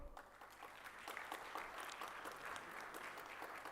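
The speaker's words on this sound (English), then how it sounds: "Please, all of us, with a stand of applause, please welcome Dr. Lars Kothov" An audience at an AI and cybersecurity forum applauds steadily to welcome the panelists, a faint, continuous patter of many hands clapping.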